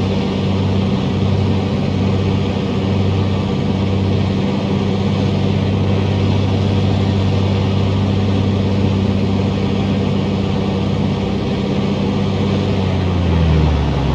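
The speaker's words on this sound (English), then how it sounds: "Throttle needs to be around 2000 RPM, engine instruments are indicating normal values." A simulated Piper PA-24-250 Comanche engine in Microsoft Flight Simulator runs up at steady high power, a loud continuous drone that holds evenly and then drops slightly in pitch near the end.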